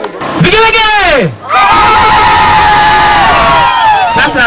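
A crowd ululates in loud, high trilling cries that rise, dip briefly, then swell again over voices and cheering.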